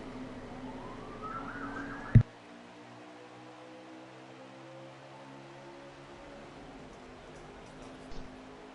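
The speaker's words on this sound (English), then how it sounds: "I got some sirens going off in the back." A siren wails in the background of an online Xfinity-series sim race at Auto Club, its tone sweeping upward for about two seconds over a steady engine drone before cutting off abruptly, leaving the low rumble running.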